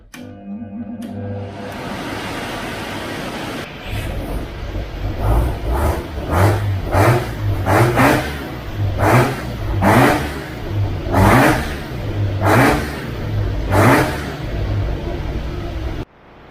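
Mazda Bridgeport rotary engine fed by a Weber carburettor runs on a dyno, idling steadily before climbing into a string of loud, sharp revs that rise and fall in regular bursts, close and raucous.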